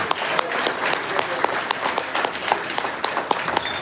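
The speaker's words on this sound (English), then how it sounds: "So give the ball a round of applause now." An audience breaks into applause at a gathering in Ocala, Florida, a thick continuous crowd clapping with sharp individual claps popping out of the mass, steady and fairly loud throughout.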